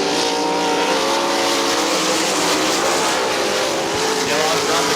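Sprint cars racing at Winston Motor Speedway on a dirt oval, a dense, continuous high-pitched engine roar from a pack of cars, loud and sustained, with an announcer talking over it.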